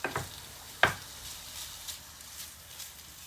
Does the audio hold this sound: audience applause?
no